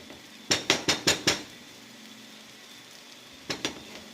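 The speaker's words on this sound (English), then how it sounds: "I know you're hearing me banging the pot." A cooking pot is banged while seasoned breadfruit is prepared: five sharp metallic knocks in quick even succession, a pause, then two more close, crisp strikes over a faint kitchen background.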